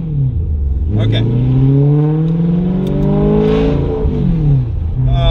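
Car exhaust revving and droning loudly in an open-top car, engine rising and falling steadily throughout, with a person speaking briefly over it.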